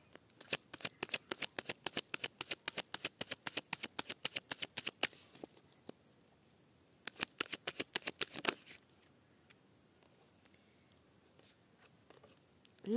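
Tarot cards being shuffled and handled during a reading: rapid, crisp flicking clicks in two dense bursts, the second shorter, then near silence with a few faint taps.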